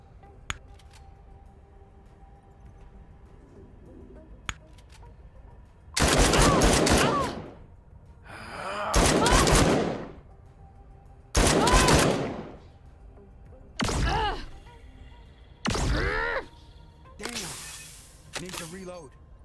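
Gunfire in the game Encased comes in about six loud, sharp bursts, each roughly a second long and spaced a couple of seconds apart, following a quiet opening with a few faint clicks.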